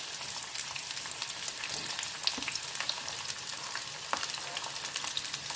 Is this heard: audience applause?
no